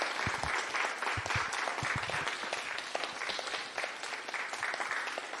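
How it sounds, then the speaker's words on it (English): Steady applause from a panel audience fills the room, many hands clapping densely and continuously at moderate level, with a few faint voices mixed in. "Can we get a round of applause for our beautiful speaker?"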